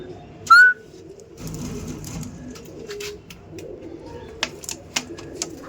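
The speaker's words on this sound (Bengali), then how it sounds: "আপনার পায়রাগুলো লক্ষ্য করুন" Pet pigeons kept for pigeon racing coo softly in short, low, rounded calls, with a sharp whistle near the start and a few clicks and wing sounds, close by and fairly quiet.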